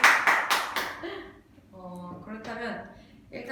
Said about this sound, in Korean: 화이팅! 박수!